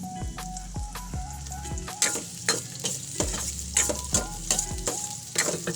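Sliced onions stir-fry in a hot pan with a steady sizzle, punctuated by repeated sharp scrapes and clacks of a spatula against the pan, close and moderately loud.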